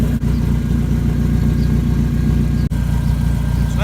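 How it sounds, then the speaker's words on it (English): A car engine idles with a new loud exhaust, a steady low rumble with fine pulsing, close and continuous throughout, with two brief dropouts. "this car is too loud."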